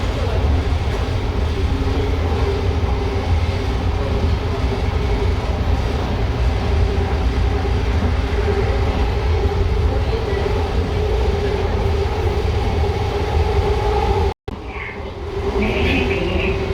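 Inside a Yongin metro train in Korea, a continuous loud rumble of wheels and car noise runs throughout. Near the end a brief cut breaks the rumble, then a faint hiss and lighter noise follow.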